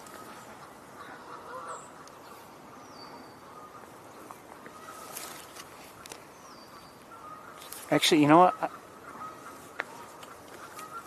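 A goose on the ground gives a single loud, brassy honk that stands out over steady outdoor background noise, with someone speaking briefly.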